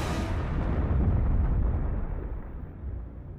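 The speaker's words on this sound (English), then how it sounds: "It begins to break up and then explodes with the force of a small nuclear bomb." An asteroid explodes high in the atmosphere, a deep, rumbling boom that rolls on and slowly fades over several seconds, heavy in the low end and heard on its own.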